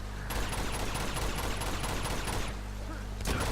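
Rapid gunfire from a firefight in Uncharted 2: Among Thieves, a steady dense barrage of shots lasting throughout with a brief dip near the end, loud and close with no talk over it.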